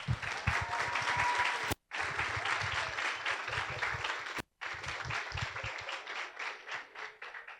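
An audience at a university event applauds students, a dense sustained clatter of many hands that is briefly cut twice and then thins toward the end, with no talking over it.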